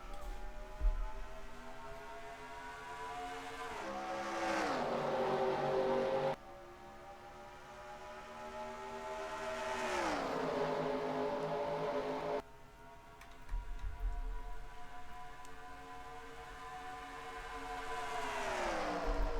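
Race cars in NASCAR Racing 2003 at Atlanta under green flag, engines revving up and shifting in repeated rising whines as the field accelerates, steady and loud with no talk.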